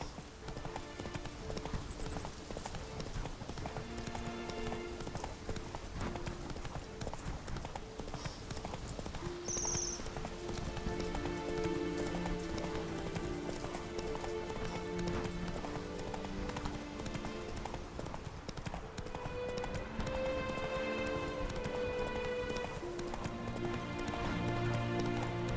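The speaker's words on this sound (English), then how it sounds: "Run, Roach." Hooves of a horse clip-clop steadily through a gallop in The Witcher 3 open-world game, a continuous rhythmic beat over game music and ambient rain-like noise, with an occasional whinny.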